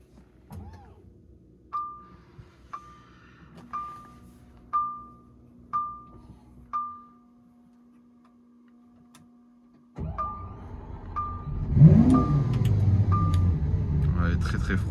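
A Lamborghini Aventador starting from cold after sitting a long time: six evenly spaced ignition chimes over a faint hum, a pause, then the engine cranks and fires into a loud, deep, rising roar.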